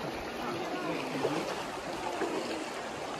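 Rushing water from rapids below a waterfall at Mystery Falls in Zion National Park, a steady broadband wash close by with no pauses for the full length.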